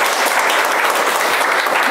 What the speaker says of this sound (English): I feel like we should applaud for the book.